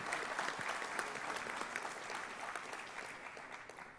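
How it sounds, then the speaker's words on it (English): An audience applauds the inductees at the Sterling High School Athletic Hall of Fame induction ceremony. The clapping is steady and dense, heard faint and distant, and fades slightly toward the end. "So, round of applause."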